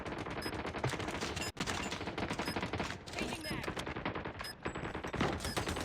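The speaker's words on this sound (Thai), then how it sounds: "ยิงอะไรมันเนี่ย" Rapid, dense gunfire fills a shooter video game round, continuous loud bursts of automatic shots with brief gaps, layered over game effects and chimes.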